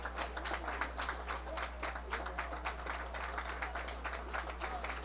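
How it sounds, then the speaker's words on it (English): Faint crowd applause at a minor-league baseball game between the High Point-Thomasville Locos and Carolina Disco Turkeys, a distant steady patter of clapping under a low electrical hum. "A well-deserved round of applause for Colin Kennedy."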